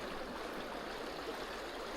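Strong current of the Orava river rushing steadily, a continuous broadband wash of moving water close by with no pauses or talk.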